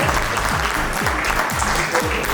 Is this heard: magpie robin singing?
no